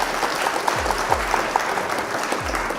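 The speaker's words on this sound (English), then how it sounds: "Round of applause for you." A round of applause during a live Flesh and Blood trading card game stream, steady mid-level clapping running through the whole short stretch alone, with a few brief bright tones over it.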